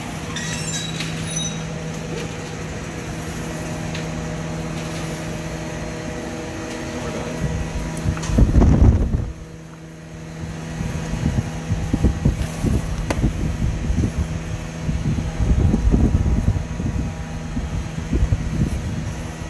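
A glass furnace roars steadily while a light blue tapered blown-glass vase is reheated on the pipe, a loud continuous rumble with a brief surge partway through, then uneven bursts as the piece is swung.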